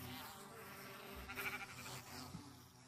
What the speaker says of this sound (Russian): Да почему у меня пчелы бегут?